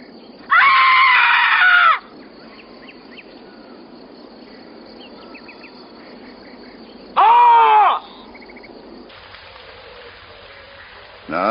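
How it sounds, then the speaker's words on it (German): Loud screaming voices from a mother and child in a 1988 German thriller, two separate sustained shrieks, each lasting about a second, with quiet background in between. "Ich kann viel lauter schreien."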